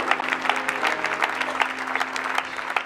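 A church congregation at a seminar breaks into applause for Jesus, a dense and steady burst of clapping from many hands, moderately loud, for about three seconds.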